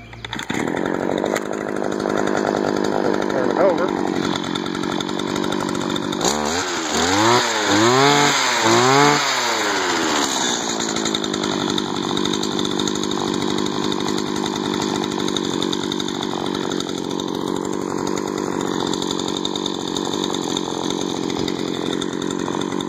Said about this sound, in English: Now I'll fire it up real quick. Should start first pull since it's been running.